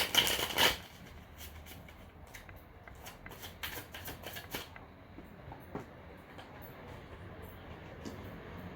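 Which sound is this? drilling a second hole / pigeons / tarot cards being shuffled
tarot cards being shuffled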